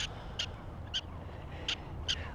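Small animals give sharp alarm chirps as someone approaches outdoors, five brief calls spaced at irregular intervals and heard at moderate distance.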